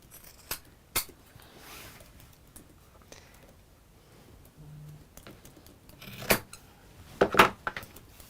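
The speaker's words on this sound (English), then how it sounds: "So let's cut those 12-inch lengths now." Scissors cut 12-inch fabric lengths for bag handles, giving a few faint, quiet snips and clicks spread across the stretch, with a small cluster of crisper snips toward the end; no one speaks.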